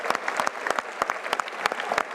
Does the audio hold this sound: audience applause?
yes